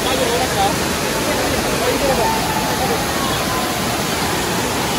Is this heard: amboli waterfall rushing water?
yes